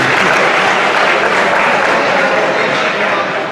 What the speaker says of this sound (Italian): gli facciamo un applauso per questo montaggio